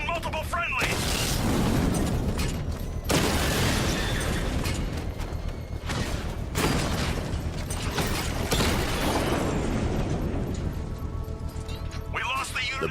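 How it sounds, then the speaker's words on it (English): A controlled explosion set off with a power winch in Batman: Arkham Knight, heard as a dense, loud run of booms, crashes and mechanical rumble that continues through the whole stretch, with brief breaks between the blasts. "I can use the power winch to trigger a controlled explosion."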